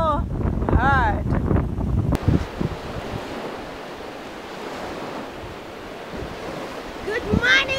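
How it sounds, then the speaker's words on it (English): Strong wind in Turkana, Kenya, roars and buffets the microphone in a steady, loud rush, with a person talking at the start and again at the end. "The wind is blowing so hard."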